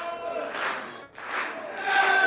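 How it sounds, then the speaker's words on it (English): A wrestling crowd at an indie show cheering and chanting to rally behind a downed wrestler, loud massed voices in two swelling waves with a brief dip between. "This crowd trying to rally behind Prophet."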